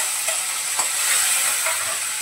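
Tomatoes hit a pan of hot oil already holding mustard seeds, cumin and garlic, giving a steady, fairly loud sizzle with a few soft stirring clicks, and no talk.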